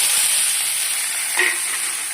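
Potatoes fry in oil in a pan with panch phoron, giving a steady, close broadband sizzle that holds at one level throughout, with a brief brighter flare near the middle and no voices.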